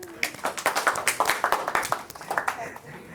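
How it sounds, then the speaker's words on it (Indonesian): A small class claps for a student named Winda during a peer counseling lesson, a quick burst of fairly close, uneven handclaps for about three seconds, with a few voices mixed in. "Tepuk tangan buat Winda"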